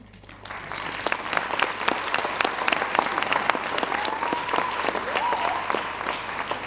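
A theater audience at a school gala show applauds steadily, a dense wash of many hands clapping at close range, continuing evenly throughout.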